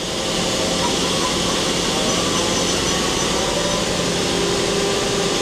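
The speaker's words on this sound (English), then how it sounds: "We're running the sub spindle first." Sub spindle of a Mori Seiki MT2000SZ CNC mill-turn center running, a steady loud machine whine and hum with a constant drone throughout, no talk.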